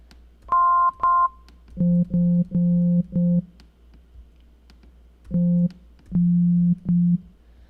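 A synthesizer plays a simple bass line of short, plain square-wave tones with a couple of higher notes first, then low repeated notes in a steady rhythm.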